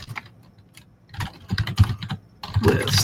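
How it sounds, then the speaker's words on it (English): Computer keyboard typing up close, bursts of quick irregular key clicks separated by short pauses, growing busier and louder toward the end. "typing out a little bit of a description"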